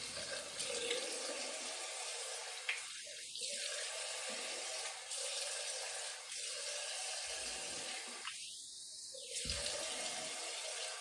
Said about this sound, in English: I'm gonna try and wash some of the blood off.